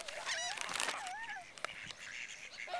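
Waterfowl being fed bread give several close, nasal honking and quacking calls in quick succession, with some background noise.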